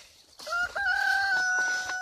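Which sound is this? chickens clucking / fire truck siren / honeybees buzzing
chickens clucking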